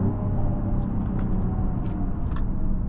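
A 2024 Mercedes-AMG GLE 53 accelerates hard from inside the cabin, a loud, steady engine rumble with a deep low drone that holds for several seconds.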